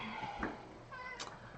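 Pet cat meowing indoors near a cat tree, two short close meows in quick succession over a quiet background.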